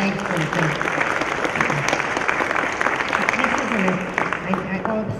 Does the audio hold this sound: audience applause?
yes